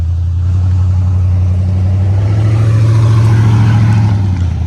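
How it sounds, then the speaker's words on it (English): A car passes on a road beside the Foothills Trail, a loud, close, steady engine and tire drone that swells slightly in the middle and then eases, with no talking. "Road noise."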